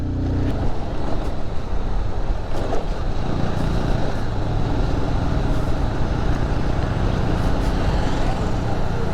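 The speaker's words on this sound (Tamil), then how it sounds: "ஃபஸ்ட்டு கீரில் திணறுது பாருங்கள் அப்படியே வண்டி." A motorbike engine strains in first gear up a steep hairpin bend on the Kallatti ghat road toward Ooty, a loud, close, labouring drone with wind rush that continues without a break.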